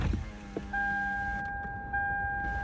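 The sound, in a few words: car window rolling down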